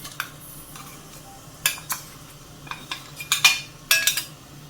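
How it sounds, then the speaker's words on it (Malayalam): Prepared masala going into hot oil with cumin in a pan for a ladies finger (okra) masala fry, heard as scattered clinks and scrapes of a spoon against the pan, short and irregular, with no talk. "അതിലേക്ക് നമുക്ക് തയ്യാറാക്കി വെച്ചിരിക്കുന്ന മസാല എണ്ണയിലേക്ക് ചേർത്ത് കൊടുക്കാം."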